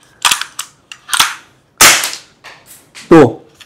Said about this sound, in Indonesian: Tuh, ini gue tembak aja